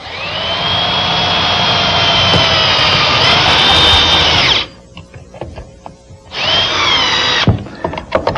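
A power drill with a long screwdriver bit drives screws into glued wooden rails, whining loudly at high speed for several seconds, pausing briefly, then spinning up again for a second shorter burst, close up with no talk.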